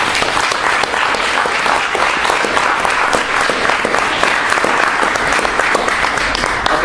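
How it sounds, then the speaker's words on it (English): Wedding guests at a reception give a round of applause, a dense, steady wash of many hands clapping close by, sustained and loud throughout with no other sounds standing out. "Think of a round of applause, please"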